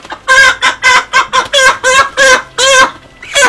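Thirty-day-old broiler chickens cluck loudly in a poultry house in Oyem-Angone, with a steady run of close, repeated clucks and short squawks and no talking.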